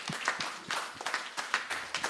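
Church congregation at a men's weekend gathering claps together in a soft, steady patter of many hands, faint and fairly distant, with no talk over it.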